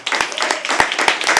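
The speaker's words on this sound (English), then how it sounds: "can we please have a huge round of applause for Harsh?" A handful of people clap briefly at a live poetry open mic, with several distinct close hand claps over a short, light burst of applause for a performer.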